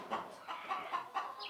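Layer parent stock hens cluck softly in a run of short, rhythmic calls, fairly faint and at a moderate distance.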